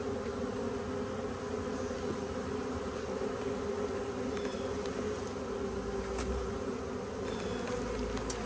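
Honeybees buzzing loudly and continuously as a beekeeper shakes them off frames into a hive during a split to prevent swarming, a close, steady, droning hum with no voices.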